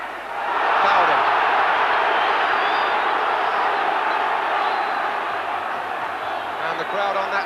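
Stadium football crowd at Newcastle v Fulham in 1982 swells into a loud, sustained roar of protest after a foul, a broad wall of voices that rises quickly and holds before easing slightly.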